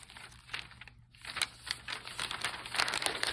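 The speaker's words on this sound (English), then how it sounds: "Crumple it up. And crumple it around." Newspaper being crumpled by hand for papier-mâché, a close series of dry crinkling and rustling bursts that comes and goes without a pause, with no talk.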